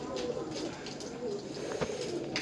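Soft, low cooing from Teddy pigeons repeats in gentle rolling phrases against a quiet background hum.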